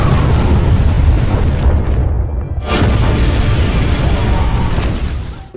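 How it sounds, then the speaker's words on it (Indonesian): A barrel of gunpowder detonates as a sound effect: a loud, heavy blast with a long rumbling roar, a brief drop-off, then a second surge of crashing boom that fades slowly. "menyulut Tong Mesiu yang menciptakan ledakan"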